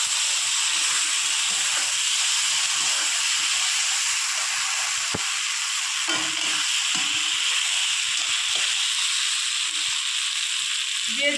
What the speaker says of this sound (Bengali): এরপরে দিয়ে দেবো টমেটো কুচি। টমেটো কুচিটা আমি একটু বেশি পরিমাণে দিয়েছি